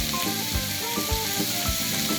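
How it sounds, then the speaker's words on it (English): Liver sizzles and crackles steadily in a hot frying pan, with soft scraping and occasional thumps of a utensil, close and fairly loud. "So the liver is coming up. So it's sizzling"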